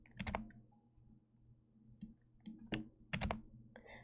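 Clicky mechanical computer keyboard typing in short bursts of sharp, close clacks separated by pauses, with a low steady hum beneath and no speech.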